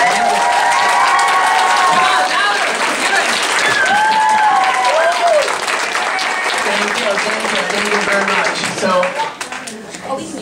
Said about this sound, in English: I just want one more round of applause for all the amazing costumes.